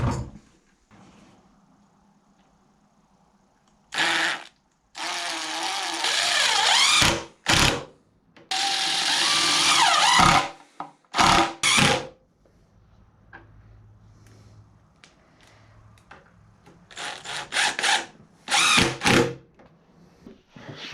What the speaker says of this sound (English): then I will drill my hole through here to put the pivot point